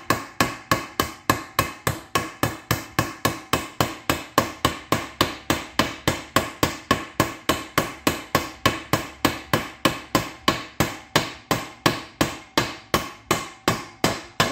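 A hammer taps a U-joint needle bearing cup into the rear axle yoke of a 1976 Dodge D100, striking metal in a steady, rapid rhythm of roughly three blows per second, close and loud throughout with no talking.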